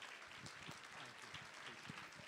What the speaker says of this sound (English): So I think you should all give yourself a big round of applause.